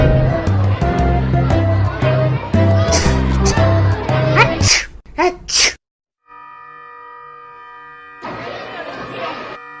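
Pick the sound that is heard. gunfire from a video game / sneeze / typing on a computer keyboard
sneeze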